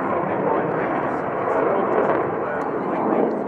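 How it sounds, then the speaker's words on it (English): A heavy jet fighter flying a tail slide at an airshow, its engine a loud, continuous broadband roar that swells slightly, heard at a distance with no talking over it. "tail slide, a remarkable manoeuvre for a heavy jet fighter"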